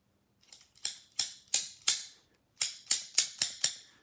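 Scissors snip through the packaging of a Moog GrandMother synthesizer, about ten crisp close cuts in two quick bursts separated by a short pause, with no talking.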